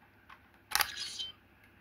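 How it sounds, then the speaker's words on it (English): A 15th Doctor sonic screwdriver toy snaps shut with a sharp click, followed by a short bright electronic chirp that fades within about half a second, heard close and alone. "There's also a sound effect if you close it as well."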